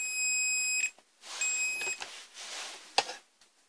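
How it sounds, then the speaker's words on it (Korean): Multimeter set to continuity mode, testing a switch on a LUNAR EC370 caravan control panel, giving sharp high-pitched beeps: one long tone, a pause, then a second long tone and a brief click. "테스트기로 보통 버튼 부저를 눌렀을 때처럼 삐 소리 나면 되기 때문에"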